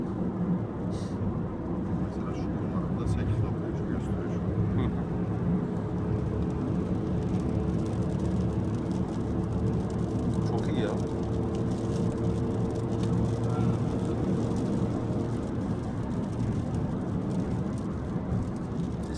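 A Skoda Octavia 1.0 TSI drives on the road with its engine running quietly, a steady low hum and road rumble heard from inside the cabin throughout.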